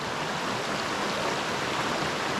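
Continuous broadband rush of a forest river during a trek at Kakkayam, steady and fairly close, with no voices.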